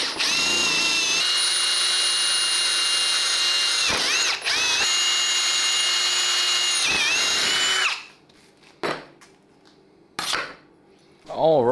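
A power drill bores holes for roof rack brackets on an overland trailer build, a loud sustained whine running several seconds with brief dips, then stopping and giving way to short bursts of drilling and metallic clatter.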